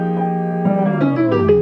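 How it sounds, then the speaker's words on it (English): A sustained, reversed chord from a music sample swells with rich harmonics, its pitch gliding downward toward the end as brighter tones layer in. "I reversed one of the chords and did a little pitch automation down on it"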